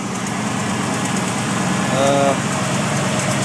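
A Ford 351 Windsor V8 with a ticking fault idling up close, a steady, even rumble heard near the front passenger wheel.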